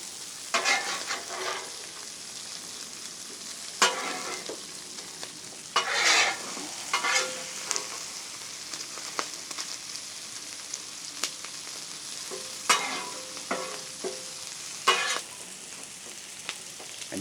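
Bacon, peppers and onions fry on a flat-top griddle with a constant sizzle, broken by intermittent scraping and clacking of a spatula moving the food, close up with no talking.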